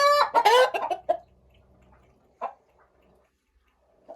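Roosters kept in a polycarbonate greenhouse give a loud burst of clucking up close, followed by two or three softer, isolated clucks with quiet in between.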